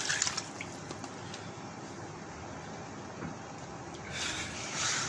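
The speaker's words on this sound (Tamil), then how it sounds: "கொஞ்சமாக லைட்டாக தண்ணி ஊற்றிக்கிங்க" A steady wash of running, pouring water, fairly quiet, with a slight swell near the end and no talking.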